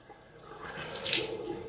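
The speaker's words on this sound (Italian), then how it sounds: "Acqua calda in viso." Hot water splashed onto a face before a shave, a soft, quiet run of watery splashes and drips heard alone, rising slightly toward the end.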